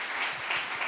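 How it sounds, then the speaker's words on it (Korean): Church congregation applauding at a Christmas service, a brief, soft, dense patter of many hands clapping together at a steady level. "우리 큰 박수로 한 번 더 축복하겠습니다."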